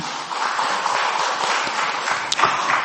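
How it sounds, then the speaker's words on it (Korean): A church congregation applauds during a Sunday service, a dense, sustained patter of many hands at a constant level for about three seconds, with one sharper tap near the end. "영광의 박수를 주님께 돌리십시다."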